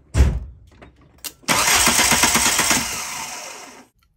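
A VW MK2 Golf engine with no spark cranks over without firing: a short burst of starter churning, a brief click, then about two and a half seconds of steady rhythmic cranking that cuts off abruptly.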